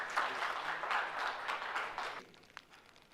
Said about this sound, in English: Let's have a huge round of applause, everyone, in welcoming Dr. Deepak Vora with us.